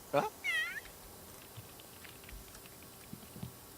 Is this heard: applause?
no